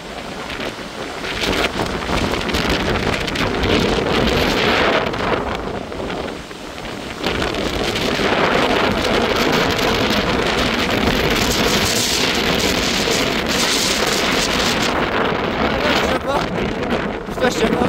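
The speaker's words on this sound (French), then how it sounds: "je tiens pas face au rafale" Storm Herminia hammering the scene with strong, roaring wind gusts buffeting the microphone in loud, sustained surges with a brief lull midway, wet rushing noise beneath, and a person's voice partly heard through the blast.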